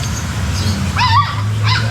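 Puppies at a dog market in Arranque yelp and whimper in a couple of short, high, wavering cries over a steady background hum.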